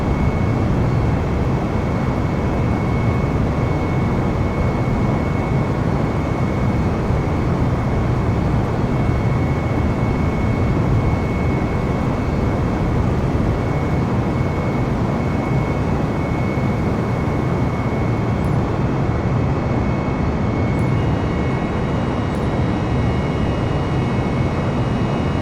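Airbus A320 airliner in Microsoft Flight Simulator, flying in rainy weather after departing Jacksonville, a steady, loud broadband roar of engine and airflow that holds unchanged throughout with no voices.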